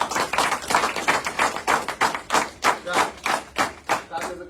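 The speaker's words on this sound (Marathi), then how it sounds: "आणि योगेश सरांसाठी, पीके सरांसाठी एकदा जोरदार टाळ्या होत्या." Rhythmic clapping from an audience at a biomagnetism kit demo event, a steady run of broadband claps about four or five per second, fairly close and loud, with no talk over it.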